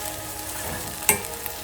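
Onion with garlic and ginger paste sautés in a pan for Gujarati urad dal, giving a steady close sizzle with one sharp stir clatter partway through and no talking.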